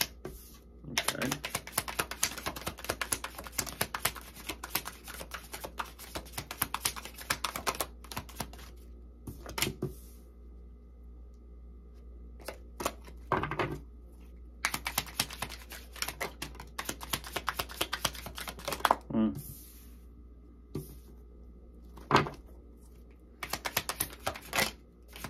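Playing cards pulled from their box and shuffled, a rapid run of crisp riffling clicks and flutters close by, coming in bursts with short quiet pauses in between.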